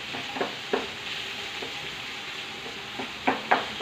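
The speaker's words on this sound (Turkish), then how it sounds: "5-6 tane patates kızartıyorum." Potatoes frying in oil in a home kitchen pan, a steady soft sizzle broken by a few sharp pops and clicks, with no talking.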